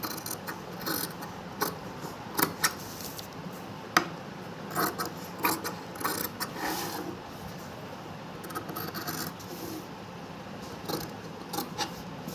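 Scissors cut through fabric around the neckline of a kurti being stitched at home, giving a close series of irregular metallic snips and clicks with no speech.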